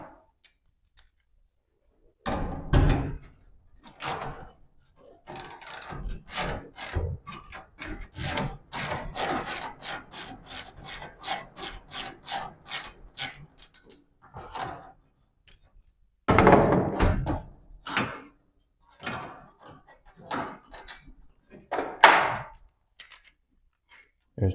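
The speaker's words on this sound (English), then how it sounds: "There's the old metal wheel. Actually, it's pretty noisy." A steel garage door roller wheel spins and rattles in rapid, rhythmic grinding clicks, speeding up and slowing in bursts close by, with short pauses between runs.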